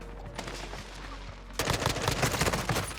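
Call of Duty gunfire from an M4 rifle cuts in abruptly as a fast, loud burst of rapid shots after a quieter stretch of low game ambience.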